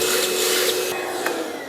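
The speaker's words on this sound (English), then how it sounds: "I'm just gonna vacuum them up as we cut" A vacuum runs close and loud, a steady broadband roar with a faint whine, sucking up metal shards during cutting for a hood-pin install, with one small clink near the end.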